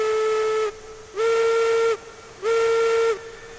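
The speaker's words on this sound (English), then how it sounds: "I love the whistle." Steam locomotive whistle from a Mogul engine in the game Railroads Online, three sustained shrill blasts with short gaps and a soft hiss between them, loud and clear with no talk.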